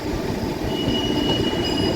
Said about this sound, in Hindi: मालगाड़ी रुक चुकी है।